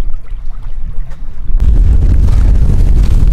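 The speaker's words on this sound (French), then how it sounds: "il y a vraiment beaucoup de vent" Strong wind buffets the microphone at a snow-covered mountain lake, a quieter gusty rumble that abruptly swells into loud, constant roaring blasts.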